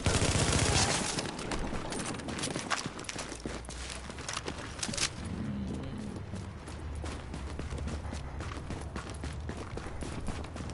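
Rapid video-game gunfire from The Division during a street fight with rioters, dense bursts of shots and impacts crowding the whole stretch, loudest at the start and staying steady without voices.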